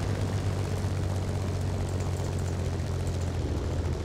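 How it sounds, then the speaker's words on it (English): Aircraft engine in a flight combat video game as the plane descends to land, a steady dense drone with low propeller hum, continuous and loud throughout with no talking. "So I bet you know that I'm going to head down and land again."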